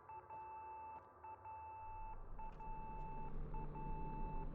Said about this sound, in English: Beeping's not too annoying, is it?